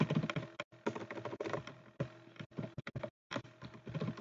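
Rapid keystrokes on a computer keyboard as credit card details are typed in, close and crisp, coming in quick bursts with short pauses between them.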